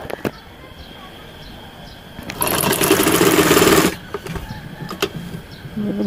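An electric sewing machine stitches a baby boy's fatua, its motor whirring loudly in one burst of about a second and a half between quieter handling sounds and faint background noise.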